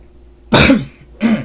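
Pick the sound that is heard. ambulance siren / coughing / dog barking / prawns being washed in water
coughing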